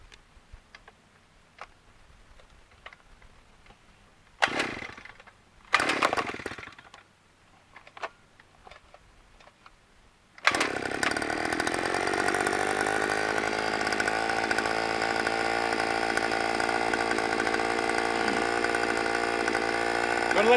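A 43cc gas-powered earth auger engine is pull-started in a desert setting. After a few short sputtering attempts it catches and settles into a loud, steady two-stroke drone that runs on alone at close range.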